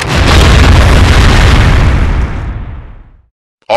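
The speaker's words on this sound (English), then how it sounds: "Call in an airstrike. Bombs away!" Airstrike bombs explode in a war video game, a single loud, deep boom that rumbles and fades away over about three seconds before a brief sharp burst right at the end.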